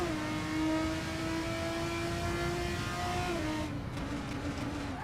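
A car engine in a racing video game drones with a buzzy, motorbike-like tone, holding a steady pitch before easing off near the end, continuous and fairly loud with no talking.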